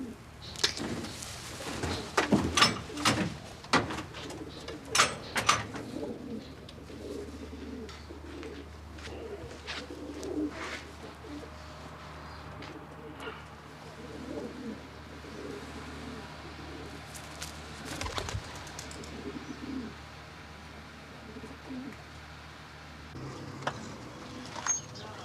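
A pigeon coos softly and repeatedly in a low, rounded murmur against an indoor hum. Sharp knocks and rustles sound at the start, with occasional thuds later.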